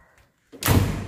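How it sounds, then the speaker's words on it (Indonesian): A car door swings shut with one solid, loud slam and a dull thud, following a brief quiet moment, on a used sedan with an all-metal body, clean tidy interior and hollow-spoke wheels. "tutupan pintu enak"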